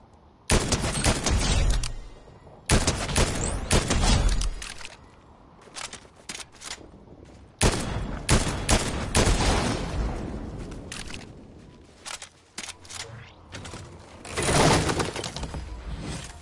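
Gunfire in Fortnite rattles out in repeated loud bursts of rapid shots, close and harsh, separated by short quiet gaps across the stretch.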